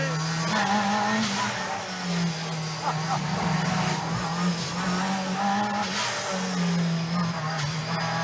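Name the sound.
Italian Group B rally car driving on worn-out tyres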